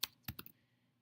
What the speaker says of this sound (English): If I type in Google Chrome